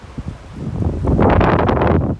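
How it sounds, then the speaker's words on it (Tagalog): Strong wind on Bermuda Island buffeting the microphone, a broad roaring rush that builds and stays loud for a couple of seconds, no voices. "Malakas kasi hangin eh."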